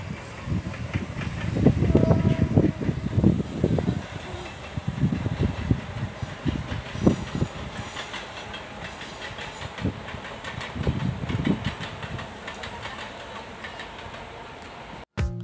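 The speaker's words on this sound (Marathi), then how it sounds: "अशा प्रकारे इथून लोकल लाँग रूट ट्रेन धावतात" Local and long-distance trains running past near Titwala, a rumbling rail clatter with rhythmic wheel clicks over the joints, fairly close and loudest early, then fading to a steadier rattle with no talk.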